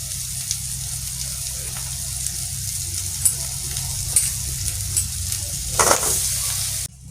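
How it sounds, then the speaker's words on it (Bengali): Boiled potatoes and taro hit a hot frying pan with spices, giving a steady sizzle and frying hiss, with a few scraping stirs and clinks. "এরপরে সেদ্ধ করে রাখা আলু আর এই গাঁটি কচুটাকে দিয়ে দিতে হবে।"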